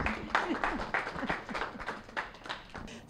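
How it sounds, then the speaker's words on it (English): Modest applause from a small audience at a political speaker series, scattered individual claps with distinct irregular hand strikes, fairly faint. "please, a round of applause to give a welcome to Debora Pignatelli."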